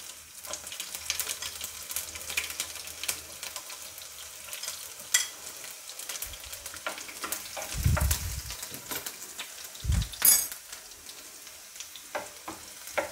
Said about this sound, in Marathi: आता मोहरी घालूया, आता लसूण घालूया